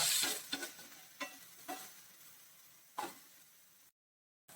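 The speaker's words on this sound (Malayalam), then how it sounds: "അപ്പം തക്കാളിയും കൂടെ ഇട്ട് കൊടുക്കാം അപ്പം ഇതെല്ലാം കൂടെ നല്ല രീതിയിൽ ഒന്ന് വഴക്കാം" Quiet sizzling of onions and tomatoes sautéing in a pan, broken by several distinct spatula scrapes and stirs, spaced irregularly, before the sound cuts out briefly.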